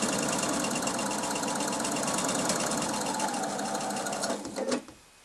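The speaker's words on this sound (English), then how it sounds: "I'm chain piecing these, again using a 1/4 inch seam on my machine." A sewing machine runs steadily, chain piecing quarter-inch seams on Double Wedding Ring quilt block pieces, a continuous close whir that stops abruptly near the end.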